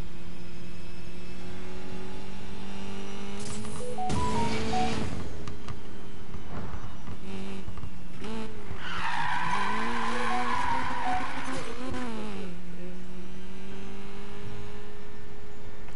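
A car revving and sliding sideways in the racing game Need for Speed Heat, with a steady engine drone, rising revs and a long tire squeal mid-drift, loud and close with no talk.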